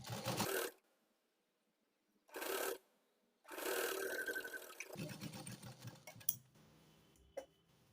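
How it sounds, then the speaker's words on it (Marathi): A sewing machine stitches the folded edge of a garment in two short bursts and then a longer steady run, followed by softer mechanical clicks and handling noises nearby. "मी वळवून घेतला आणि शिलाई द्यायला सुरुवात केली"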